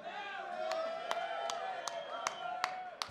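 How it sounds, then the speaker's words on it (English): A crowd at a rock band show claps in a steady, evenly spaced rhythm for the band's bass player, Phil, with sharp claps over a sustained musical tone and crowd noise. "Round of applause for Phil."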